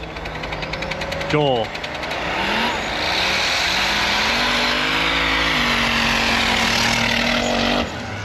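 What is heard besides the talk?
snowmobiles racing in a snow drag race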